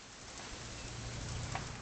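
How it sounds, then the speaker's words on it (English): Steady rain hisses and patters continuously in an outdoor scene of the video game What Remains of Edith Finch, a dense even wash with no voices. "It's gonna rain the whole weekend, isn't it?"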